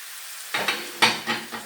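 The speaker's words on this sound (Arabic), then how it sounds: "دابا غنضيفوا هاد اللبن ديالنا مع الثوم" Milk and garlic hit frying onion, setting off a sharp, loud sizzle, then several quick follow-up bursts of crackling as the mixture is stirred close by.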